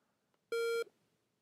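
A single steady electronic beep from a Workouts 4.0 pace clock send-off signal, lasting about a third of a second, loud and clean against near silence.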